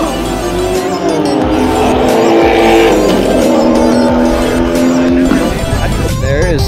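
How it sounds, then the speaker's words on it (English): Race cars at an outdoor European car show, a loud continuous engine roar with rising revs and tire squeal, passing close with crowd noise underneath. "Racing going on."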